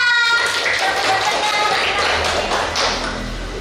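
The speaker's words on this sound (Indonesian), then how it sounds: "Tepuk tangan untuk Mbak Dila" Classroom of students clapping for a classmate after a group presentation, a brisk burst of hand claps that fades slightly toward the end, with a voice briefly heard over it.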